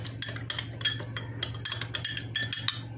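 A spoon stirs half a teaspoon of salt into ingredients in a bowl, making a run of quick clinks and scrapes against the bowl over a steady low hum, with no talking.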